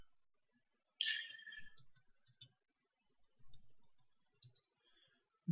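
Typing on a computer keyboard while entering OpenSCAD code: a quiet run of light, irregular key clicks over several seconds, close by, with no talking.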